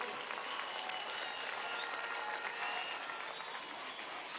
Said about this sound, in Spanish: un aplauso para el presidente Nicolás Maduro Moros